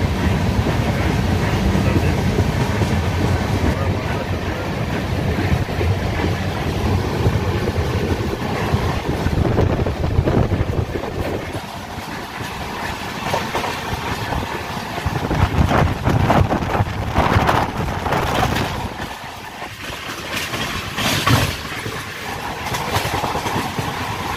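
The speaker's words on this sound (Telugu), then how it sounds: "ఫాస్ట్ వెళ్తుంది ట్రైన్ అయితే" A train runs fast near Vijayawada, giving a steady loud roar of wheels and rushing wind with faint rhythmic clatter throughout, heard from onboard.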